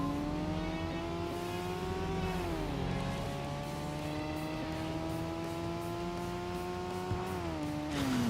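A Nissan Silvia S13 racing an AE86 in the video game Tokyo Xtreme Racer 3, with a steady loud engine drone that rises in pitch, drops at a gear shift, and climbs again.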